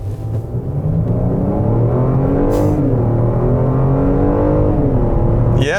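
A Genesis G80 3.5-litre twin-turbo V6 accelerates hard from 0 to 100, a loud steady engine drone rising in pitch through the gears with brief shift dips, heard from inside the cabin.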